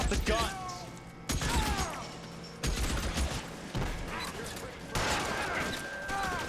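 Repeated bursts of gunfire in the video game L.A. Noire, sharp cracks and volleys at intervals across the whole stretch, with someone talking over the shots.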